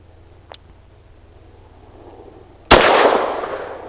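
A single sharp pistol shot from a Rock Island Derya Arms Melik firing Speer Gold Dot 115 grain ammunition, loud and close, with a long decaying report after a quiet lead-in and a faint earlier click.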